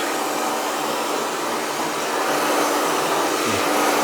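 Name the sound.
hair dryer drying hair from the bottom up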